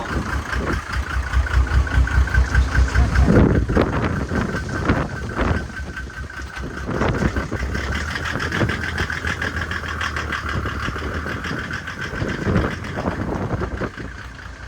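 A Nissan Patrol Y61 engine runs steadily at idle before a test drive, a continuous mid-pitched rumble with a louder stretch at the start, mixed with some handling noises and no speech.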